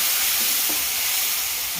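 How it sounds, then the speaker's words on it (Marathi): Cold water hits hot tempering in a pan and sets off a steady, loud hiss and sizzle that fills the whole moment, close by with no speech. "थोडंसं फक्त गार पाणी टाकायचं फोडणीमध्ये"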